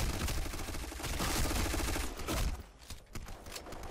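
Rapid bursts of gunfire from the video game Black Squad, a free-to-play shooter, fired loud and dense through the first half of the clip, then thinning to scattered shots and sharp cracks.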